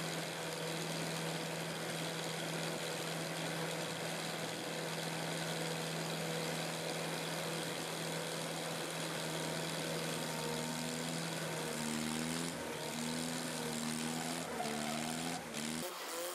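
A 65 hp home-built stump grinder engine runs with its cutter wheel disengaged, giving a steady, loud mid-pitched drone that holds throughout, with a few wavering pitch shifts near the end.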